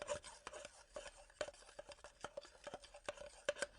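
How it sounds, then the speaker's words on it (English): Egg whites whisked in a bowl, a quiet, steady run of rhythmic scraping strokes with no voices. "And now you will add the egg whites. And stir? Not stir, whisk."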